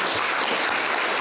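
A hall audience claps for young party debaters at an immigration debate, a dense, steady burst of applause throughout.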